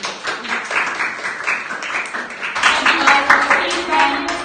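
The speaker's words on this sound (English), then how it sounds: "can we get a round of applause for Miss Markey?" A small audience claps for a presenter, Miss Markey, at a group presentation. Scattered clapping under a speaking voice swells midway into a fuller, louder round of applause close by.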